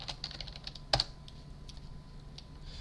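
Keys tapped on a Grandma3 lighting console keyboard, a series of light quick clicks with one sharper double strike near the middle, close and quiet with no talk.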